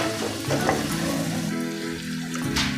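Tomatoes frying and sizzling in a pan of chicken moringa curry, a steady close crackle with stirring scrapes throughout, no voices.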